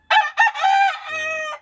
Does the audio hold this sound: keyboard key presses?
no